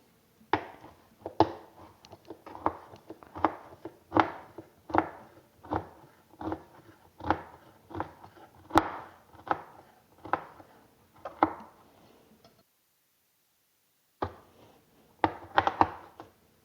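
Three strips of bacon chopped with a knife on a board, giving a steady run of crisp, evenly spaced knocks at close range, a short pause, then a few more quick chops.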